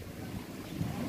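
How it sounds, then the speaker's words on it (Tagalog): Strong wind buffets the microphone outdoors, a loud, steady rushing roar with low rumbling gusts filling the short moment. "Ang lakas ng hangin!"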